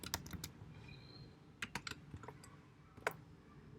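Rapid clicking of keys on a computer keyboard while C++ code is typed, coming in quick bursts with short pauses between them, close and fairly quiet, with no talking.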